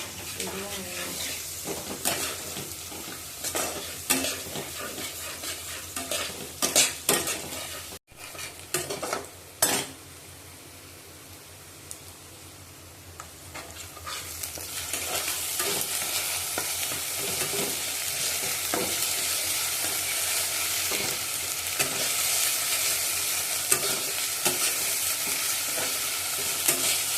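Ginger garlic paste fries with ground spices in a pan. A spatula clatters and scrapes in quick bursts at first, then a strong, even sizzle swells and holds steady, close and loud, with no clear talk.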